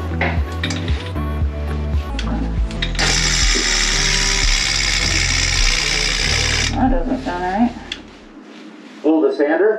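Electric sander on a sailboat's fairing compound whirring loudly for about four seconds amid clattering and handling noises, then stopping; someone speaks briefly afterward.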